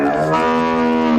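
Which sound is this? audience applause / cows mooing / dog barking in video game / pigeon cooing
cows mooing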